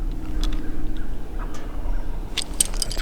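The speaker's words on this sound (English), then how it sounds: "Or he just gobbled again." A wild turkey gobbles at a distance, a faint rattling call under steady outdoor background noise, with a sharper burst of bird calls near the end.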